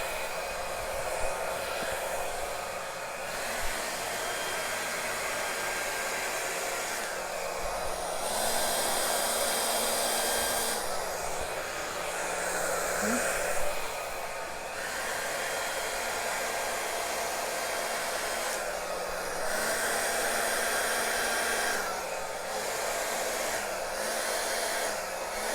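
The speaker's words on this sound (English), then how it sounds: "So I'm just going to put my hair dryer on. It's going to be a little bit noisy." Hair dryer running close and loud to dry an acrylic pour painting, a steady blowing roar that holds for the whole stretch, with its pitch shifting as the airflow setting changes.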